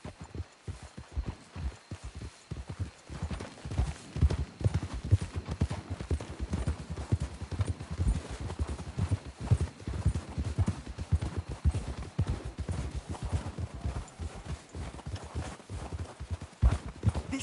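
Horses' hooves clip-clop steadily in Red Dead Redemption 2, a dense run of close, loud hoofbeats with occasional snorts and movement that continues throughout.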